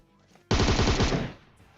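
A sustained burst of automatic gunfire in the mobile battle-royale game PUBG Mobile, loud and close, lasting under a second of rapid shots before stopping abruptly.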